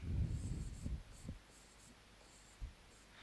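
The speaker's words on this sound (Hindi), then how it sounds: "तो यहाँ पे कुछ पॉइंट्स लिखते हैं।" A marker or chalk writes notes on a board in short scratchy strokes, close and fairly quiet, with pauses between bursts and a light tap near the end.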